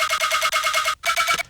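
A Serum 2 synth percussive lead layered with a spectral whistle plays in a quick, punchy rhythm of bright tonal hits. It stops for a short gap, then picks up again, loud and alone.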